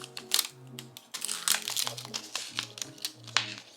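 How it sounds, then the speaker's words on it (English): Excess transfer backing is peeled off vinyl letters in quick crinkly bursts and crackles, close and fairly quiet, with faint background music running underneath. "You only want to peel the excess backing."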